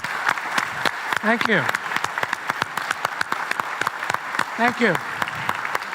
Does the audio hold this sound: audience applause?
yes